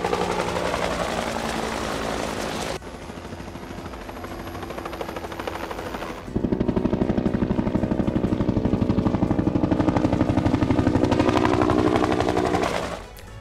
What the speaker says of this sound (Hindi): रूसी हेलीकॉप्टर की बारूदी वर्षा, यूक्रेन ठिकानों को तलाश कर बनाया निशान।